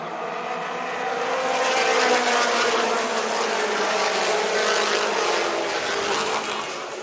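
Mini stock race cars race at Tri-City Raceway during the Fall Classic. Their engines make a continuous, loud roar that swells and holds as the pack passes, with no voices over it.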